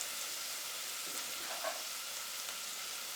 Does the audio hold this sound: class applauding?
no